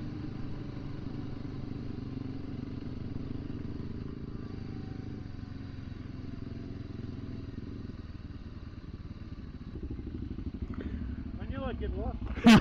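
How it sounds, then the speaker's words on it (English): Suzuki DR650 and DRZ400 motorcycles ride along steadily, a continuous mid-pitched engine drone with road rumble throughout, growing a bit louder with clatter near the end. "You've got Wayne leading the way on his DR650"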